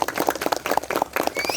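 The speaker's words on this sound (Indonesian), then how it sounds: "tepuk tangan untuk semuanya" Applause and clapping ring out from an audience honoring trainers at a vertical rescue school gathering in a scout camp, a dense, steady patter of many hands sustained throughout.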